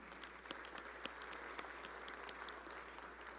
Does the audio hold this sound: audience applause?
yes